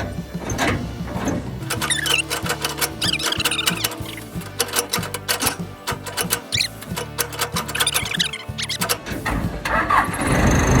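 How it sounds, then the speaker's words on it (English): A tractor engine cranks with a rapid whirring, squeaking starter rhythm, then catches and runs, rough and close, with metallic chatter throughout. "Start the tractor with me."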